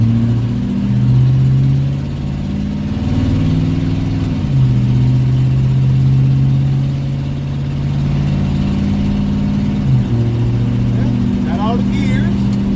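A 1971 Chevrolet Chevelle, back on the road after more than 30 years, drives around a yard with a steady loud engine drone and gear shifts under people talking.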